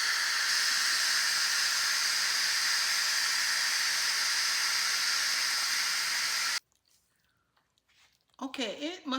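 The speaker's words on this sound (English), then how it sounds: "So now I am going to let the steam out." Steam released from a pressure cooker of beef stew, a loud, steady hiss rushing without pause for several seconds before stopping abruptly. Near silence follows, then a short burst of handling noise.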